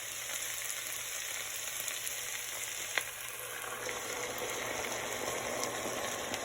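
Garlic and vegetables for a pork ragu sweat down in a pan, giving off an even, dense frying hiss with a single sharp tap partway through and no talk.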